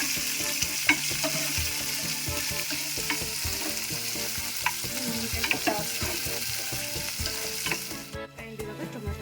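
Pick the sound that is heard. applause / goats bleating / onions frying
onions frying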